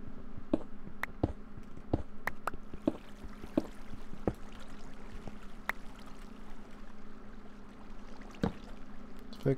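Flowing water in a Minecraft cave, a soft continuous trickle and gurgle running throughout, with scattered clicks and taps over a low hum, fairly quiet and with no voices.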